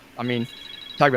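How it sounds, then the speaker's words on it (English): A phone rings twice in short electronic bursts, fairly close and loud, with a brief gap between the rings. "Oh, sorry. If that's my phone."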